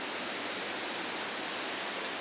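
A 40-metre volcanic waterfall roars as a steady, dense broadband rush of falling water, constant and enveloping with no breaks or other sounds.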